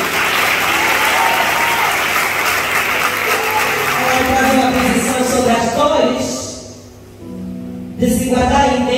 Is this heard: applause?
yes